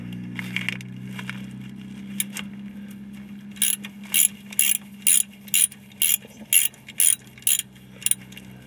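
A hand ratchet undoes 13mm bolts on the rear differential of a 2002 Ford Ranger Edge: about a dozen crisp, regular clicking bursts in quick succession after a quieter mechanical start, close and loud.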